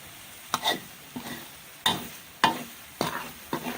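Garlic fries over medium heat in a pan while a spatula scrapes and stirs in repeated strokes, each stroke bringing a brief louder crackle.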